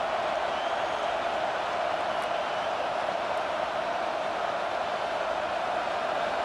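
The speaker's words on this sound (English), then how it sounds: "Decibels rising as the crowd gets behind this defense on third down." A stadium crowd in College Football 25 gives a steady, loud wash of cheering and roaring noise that holds unbroken throughout.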